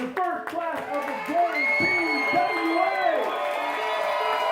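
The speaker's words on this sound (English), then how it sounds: "take a big round of applause for the first class of the" Crowd clapping and cheering for the first graduating class at a wrestling event, loud whoops and shouts riding over the applause as an announcer's voice rings out with echo.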